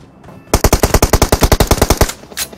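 Rapid automatic gunfire in the battle royale mobile game BGMI, a loud burst of about fifteen evenly spaced shots over a second and a half, followed by a single later shot.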